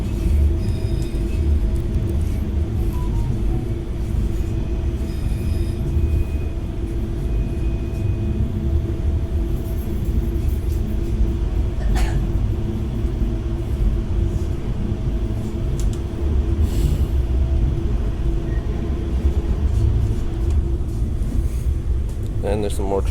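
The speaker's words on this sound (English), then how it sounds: "Again, we have a little 3-car train." A small three-car commuter train on Auckland's Western Line rumbles steadily around a sharp, nearly 180-degree curve, a continuous low roar with faint metallic squeals and rattles, and a voice talking over it at times.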